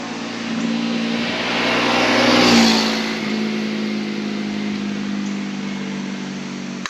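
A Kawasaki Versys-X 300 motorcycle engine runs steadily while riding, a close continuous drone with a brief rise and swell in revs before settling back to an even hum, wind noise underneath, no talking.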